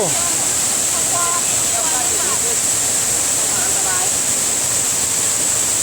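Thi Lo Su waterfall roars as a loud steady wash of falling water close by, with faint voices audible under the continuous rushing.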